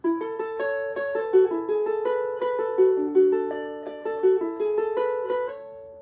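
Ukulele chords plucked in a rolling up-and-down string pattern, a continuous stream of bright picked notes moving through several chords, close and unaccompanied.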